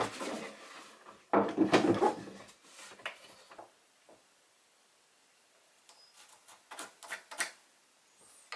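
A wooden drawer in a tiny-house kitchen unit built from upcycled materials slides and knocks into place: a loud rumbling scrape near the start, then scattered lighter wooden clunks and taps, close and without speech.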